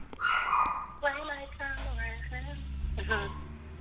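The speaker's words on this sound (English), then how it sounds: "if you hear my dogs barking" A small dog gives several high, whiny yips and barks close by over a low background hum.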